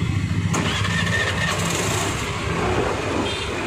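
A Suzuki Avenis BS6 scooter with a starting fault cranks and catches, its small engine running steadily and close by for a few seconds, with a brief sharper burst near the start.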